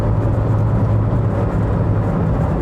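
The engine of a Citroën ZX Volcane automatic drones loud and steady from inside the cabin as the car accelerates while holding a gear. The hum stays constant under low road noise.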